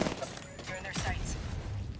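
Bursts of gunfire in the Apex Legends video game, several shots and volleys in quick succession over a busy, continuous background of game sound.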